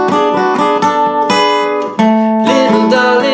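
Guitar playing the transition measures of a song after the first verse: bright picked notes in a steady rhythm, close and clear, with no voices.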